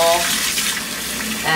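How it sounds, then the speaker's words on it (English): Dirty fish tank water poured into a kitchen sink, a steady loud splashing gush that runs throughout and swells again at the end. "I'm gonna pour it in my sink where I cook all my dinners."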